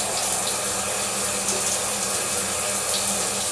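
Tap water runs steadily into a sink, a continuous broad rush where a body razor is being rinsed, close and alone with no voices.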